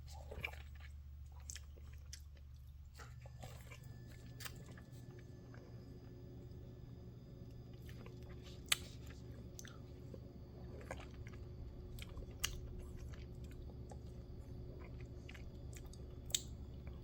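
Someone bites into and chews an Alec mango in California, with soft, faint, wet crunching and mastication sounds scattered over a steady low background hum, quiet and close, without speech.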